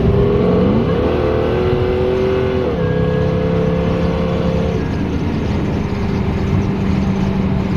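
Supercharged Chevrolet Camaro SS with a custom cam accelerating from inside the cabin, a loud, steady engine drone that climbs in pitch through gear changes, with no talking.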